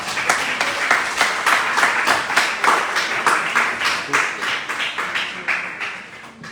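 An audience applauds after a leadership talk with loud, rhythmic clapping that stays even for several seconds and then gradually fades.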